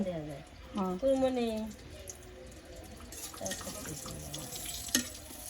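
Pakoras (bora) frying in oil give a steady, soft sizzle and crackle beneath a person talking nearby, with a brief sharper pop near the end.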